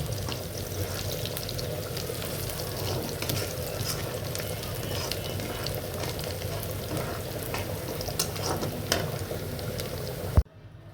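Whole spices with dried red chillies and black pepper fry lightly in a pan for a kebab masala, giving a soft, steady sizzle with small crackles throughout, close by and fairly quiet, ending in a sharp clatter.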